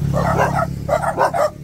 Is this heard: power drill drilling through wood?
no